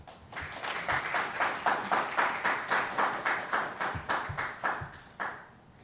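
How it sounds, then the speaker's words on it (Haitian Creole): An audience at a gathering claps together in a steady, rhythmic beat, about a dozen even pulses at moderate distance, then stops. "Sur vos applaudissements, Yvenel"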